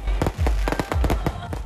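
Fireworks burst in a rapid volley of loud, close explosions at a night temple festival procession, the cracks overlapping densely with crowd noise beneath.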